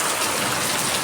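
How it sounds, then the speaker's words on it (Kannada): Heavy evening rain in Shivamogga pours down in a dense, steady hiss of drops hitting surfaces, loud and continuous throughout the short stretch with no voices. "ಶಿವಮೊಗ್ಗದಲ್ಲಿ ನೋಡ್ರಿ ಎಷ್ಟು ಜೋರಾಗಿ ಬರ್ತಾ ಇದೆ ಮಳೆ"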